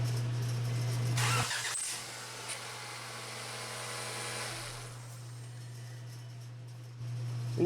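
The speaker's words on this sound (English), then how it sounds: "now I'm just going to turn the car on for a couple seconds" A Honda Accord engine cranks and catches during power steering fluid service, then idles with a low hum for several seconds before shutting off, heard close up with no talking.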